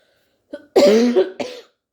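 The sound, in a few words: cough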